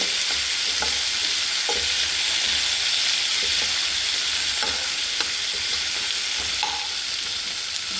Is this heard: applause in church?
no